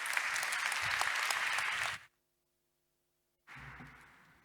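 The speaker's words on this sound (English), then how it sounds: "give him a very warm round of applause" An assembly audience claps warmly for a speaker: dense, loud applause for about two seconds, a sudden silence, then a second burst of clapping that fades out.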